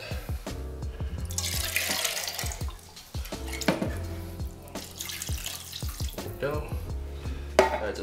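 Water is poured into a pot of watermelon soup with splashing and trickling sounds, close up, alongside faint kitchen noises.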